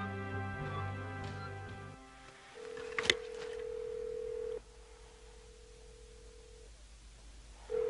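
A telephone call placed from a landline in the late 1980s, heard as a steady ringback tone through the handset after a burst of dialing, the long tone sounding once then again, with nobody answering.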